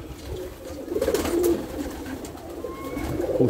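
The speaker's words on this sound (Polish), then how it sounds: "Też gołębie z zaciągu." Pigeons coo softly in a loft just after transport, with a few low, throaty calls rising from a quiet background.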